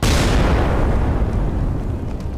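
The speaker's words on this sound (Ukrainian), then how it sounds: "В квітні того ж 22-го року вибухає перший зі знищених десантних кораблів Росії." The explosion of a Russian landing ship bursts out as a loud, close, broadband blast that rolls into a long rumbling decay over about two seconds.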